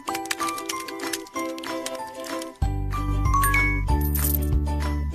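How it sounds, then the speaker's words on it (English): Cartoon pet food pours from an opened can in a kids' feeding game, with bright tinkling, jingly chimes and a sudden swell of dense, loud game sound effects over light background music, no talking. "First, open the can. Pour some food, please."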